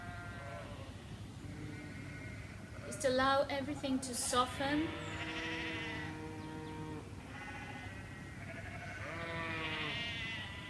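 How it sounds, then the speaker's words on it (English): Sheep bleat repeatedly in the background at an outdoor standing yoga session, with one louder burst of overlapping bleats midway, while a calm instructor's voice speaks over them. "And with the sheep in the background,"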